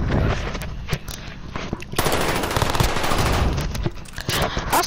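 Gunfire in Call of Duty: Modern Warfare, loud dense bursts of automatic fire and sharp single shots that crackle almost without pause, with a brief lull near the one-second mark.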